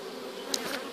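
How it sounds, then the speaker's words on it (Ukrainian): A short burst of insect buzzing, faint and close, a low droning hum from one or two honeybee drones at a hive. "йдуть трутні, а не робоча бджола"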